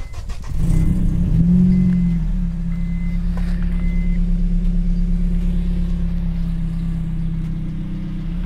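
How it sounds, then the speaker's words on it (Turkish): A modified Honda Civic Type-R FN2 with a K20 engine and aftermarket exhaust gives one quick rev near the start, then settles into a loud, deep, steady idle rumble heard close and without talk. "İstiyorsan sesi de geçmeden önce de bir Exhaust'u da dinletelim."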